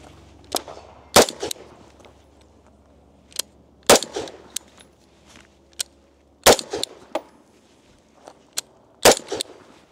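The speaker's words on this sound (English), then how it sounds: "I'm going to take some more shots and I'll report back." Shots from an XK68 fired at a 25-yard target crack out one at a time at irregular intervals, sharp and loud against a quiet outdoor background, roughly a dozen reports in all.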